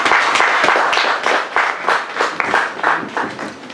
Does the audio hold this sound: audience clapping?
yes